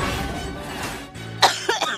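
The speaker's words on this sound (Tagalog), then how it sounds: "Matigas yung ubo" A few harsh, hard coughs come near the end, close and abrupt, following a stretch of muffled background noise.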